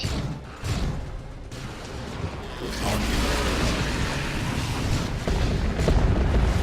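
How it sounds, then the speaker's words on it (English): Triple grenade launchers firing in Dawn of War 2: Retribution, a dense, continuous barrage of overlapping booms and blasts with steady mechanical battle noise throughout, no gaps of quiet. "big grenade spikes here on these termagants again"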